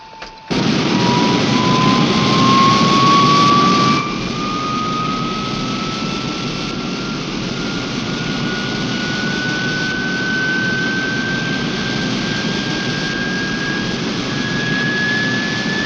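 A four-engine jet aircraft of around 1960 takes off, its loud, steady roar with a rising turbine whine filling the whole stretch, close and continuous, with no voices.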